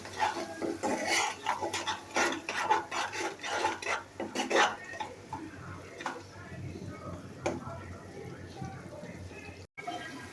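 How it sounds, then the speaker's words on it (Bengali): Spices with salt are stirred and fried in a pan for a hilsa fish curry, a utensil scraping and rasping against the pan in uneven strokes, fairly faint and close, thinning out toward the end. "এখন সবগুলি মশলাকে ভালোভাবে নেড়ে চেড়ে মিশিয়ে কিছুক্ষণ কষিয়ে নেব।"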